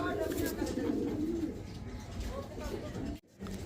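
Old German Owl pigeons cooing close by, a low, throaty murmur rolling through the first part, with a person talking over it.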